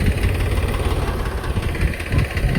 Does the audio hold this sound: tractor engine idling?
yes